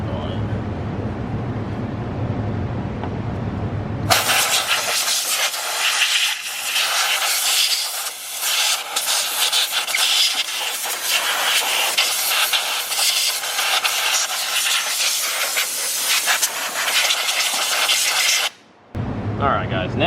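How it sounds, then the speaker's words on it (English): Compressed shop air blasting through a 6.7 Cummins diesel engine intake: a loud, continuous broadband hiss running about fifteen seconds with one brief break near the end, after a stretch of quieter engine-bay sound. "we're going to get some shop air, and we're going to just blow all this out really good"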